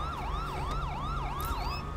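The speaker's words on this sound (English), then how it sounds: "Let's actually turn my siren off." A police car siren in GTA V wails in a fast repeating yelp pattern, loud and close over a low engine hum.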